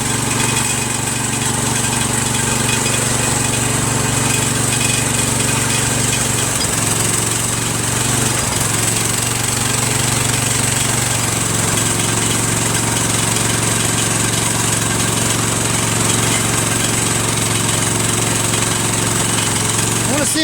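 A Cub Cadet lawn tractor's Kohler CH13S 13 horsepower horizontal engine runs steadily and loudly at a constant idle-like drone, close by and without pause for the whole stretch.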